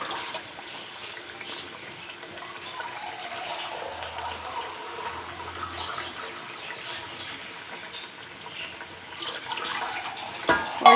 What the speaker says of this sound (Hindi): इसमें मैं 2 गिलास पानी लगाऊंगी।